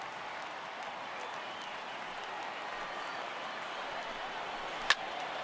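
A stadium crowd of about 35,000 fans on their feet cheers and claps at an MLB The Show 18 baseball game between the New York Mets and the Cincinnati Reds: a steady, dense roar that stays even throughout, with one sharp snap near the end.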